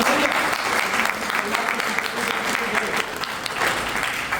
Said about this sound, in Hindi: जोरदार ताली चाहूंगा